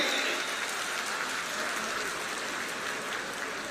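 At a Lingayat gathering, a large audience claps loudly and steadily in a dense, sustained wash of applause with no pauses.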